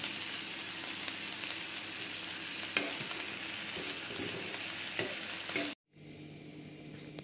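Mashed roasted eggplant cooks in a pan with a steady close sizzle and occasional stirring scrapes, then cuts off abruptly before a quieter, fainter bubbling resumes.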